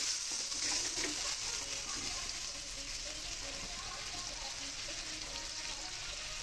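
Spice paste of cardamom, cinnamon, ginger and cumin sizzles steadily in a pan after a splash of water, a soft continuous crackle and hiss that stays even throughout with no talking.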